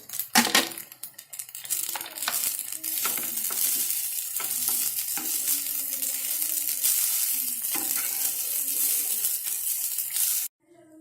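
Paneer and cashews stir-frying in a pan for matar paneer fried rice, a loud continuous sizzle with spatula scrapes and clinks, ending abruptly.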